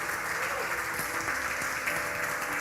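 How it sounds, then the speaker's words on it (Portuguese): Audience applause fills a church during a sermon, a dense, steady burst of clapping from a congregation lasting a few seconds. "Muito obrigado pelas palmas."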